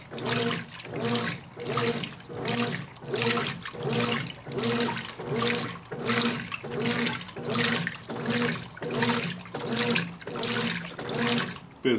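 A Brastemp 16kg washing machine churning on its heavy and jeans turbo agitation cycle, with loud, regular sloshing strokes of water about once per second, close and continuous.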